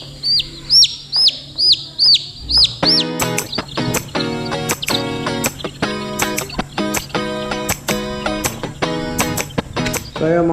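A group of one-week-old Rhode Island Red chicks chirps during vaccination, giving loud, high peeps in steady repeated bursts at close range. A harsher, buzzier run of calls takes over partway through and continues rhythmically to the end.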